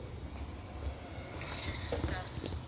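An MTA R160 C subway train in a New York station, heard quietly: a low rumble of rolling cars with brief high wheel squeals, and faint voices nearby.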